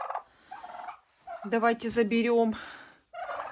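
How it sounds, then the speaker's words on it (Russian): Domestic turkeys gobble loudly and close by in a farmyard, a long warbling gobble in the middle, while someone talks before and after it. "Это 2 индюка у меня."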